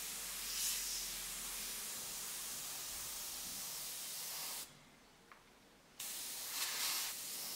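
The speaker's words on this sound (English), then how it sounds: "I'm going to move back onto the face with this color in the airbrush" An airbrush sprays paint onto a figure's face in soft, steady hissing bursts, close and quiet, with one clear pause before the spray starts again.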